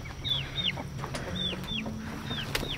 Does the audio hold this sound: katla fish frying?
no